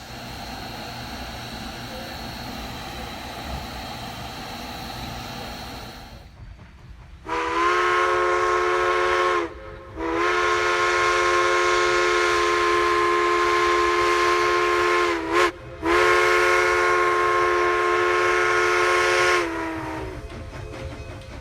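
A K-28 steam locomotive on a Rio Grande narrow-gauge freight run at the Silverton Depot gives a loud, steady chime whistle in three long blasts with short breaks, after several seconds of rumbling engine and yard noise.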